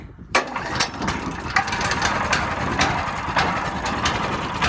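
A wood chipper's small engine fires up from a manual pull start and settles into a steady idle, a continuous close rumble with faint periodic knocks and no talk.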